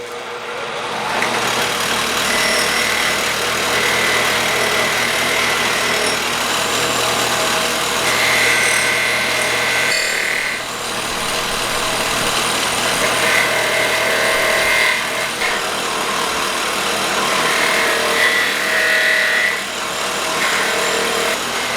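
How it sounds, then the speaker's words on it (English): A wire wheel on an angle grinder scouring metal while building a movable welding vise: a loud, steady, gritty whir that runs nearly continuously, with brief dips and shifting pitch as the wheel bites into the workpiece. "Time to start wire wheeling everything."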